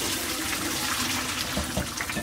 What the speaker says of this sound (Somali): waa kan noo bislaaday shrimpki haddana waa miiraneynaa